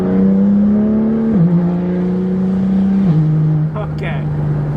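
A tuned BMW M car with a flashed ECU accelerates in Sport Plus mode, engine whine rising then dropping at two smooth gear shifts, loud and close from inside, with a brief voice near the end.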